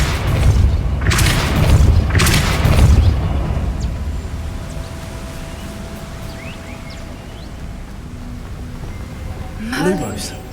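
A Depulso force spell cast in Hogwarts Legacy, two heavy booming blasts close together near the start, tailing off into a low rumble, with a voice calling out over the game sounds.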